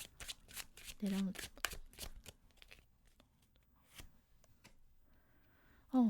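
Tarot cards being shuffled and drawn up close: a quick series of crisp riffling flicks and slides, then sparser single card snaps, with a couple of brief quiet vocal sounds between them.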